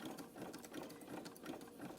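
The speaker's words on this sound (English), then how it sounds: "My sewing machine is a Baby Lock Proline." A Baby Lock Proline sewing machine runs a zigzag stitch around a rope coaster, giving a soft continuous hum with a fast, even ticking rhythm, quiet and alone.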